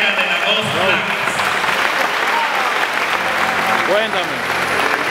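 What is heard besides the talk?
applause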